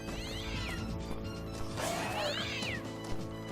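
Cloned pet cats in Fallout New Vegas give two distinct drawn-out meows, one early and one later, heard close and clear over a steady game background hum.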